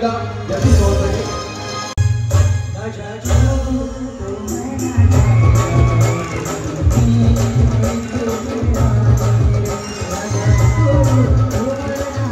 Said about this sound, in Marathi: तर जोरदार टाळ्या पुन्हा एकदा जगदीश भाऊंसाठी